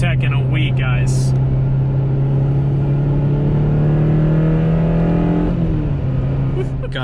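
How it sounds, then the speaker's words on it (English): A Honda Civic Si engine pulls hard into VTEC, its loud, steady note climbing continuously from inside the car before easing off near the end. "First time hitting VTEC in a week, guys."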